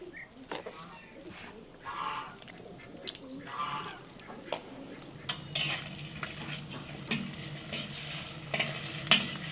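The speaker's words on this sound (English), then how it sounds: "Let's add some fat into the Kazan" Lamb fat sizzles and fries in a kazan pot outdoors, with scattered stirring scrapes and metal utensil clanks over a soft frying hiss, and birds chirping faintly in the background.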